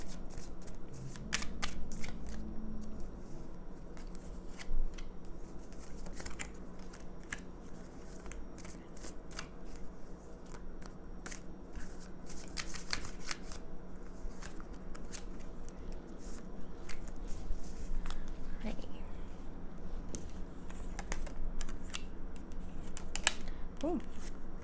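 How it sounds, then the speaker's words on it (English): A deck of tarot cards is shuffled by hand in bursts of quick riffling, papery flicks and slaps, close and fairly quiet, with a low room hum underneath and a few pauses between rounds. "I'm going to shuffle the tarot on camera."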